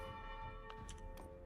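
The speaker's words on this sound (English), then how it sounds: "Enough with the bell." A bell rings faintly in a video game, with a few soft metallic strikes over a steady tonal drone and background hum.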